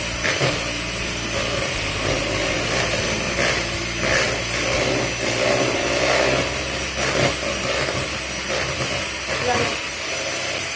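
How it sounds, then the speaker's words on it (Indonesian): An electric mixer beats cake batter with egg yolks until pale, running as a continuous loud motorized drone with a close, slightly rough buzz that holds steady from start to finish. "Kita mixer lagi sampai benar-benar putih."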